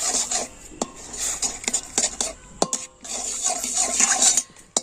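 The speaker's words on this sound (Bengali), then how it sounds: "কন্ট্রোল নাড়াচাড়া করে নিলে তো কত সুন্দরভাবে একটা ক্যারামেল তৈরি হয়ে গেল" A spoon scrapes and clinks around a pan while caramel is stirred to dissolve its lumps, giving steady rasping strokes with sharp metallic taps, close by with no talking.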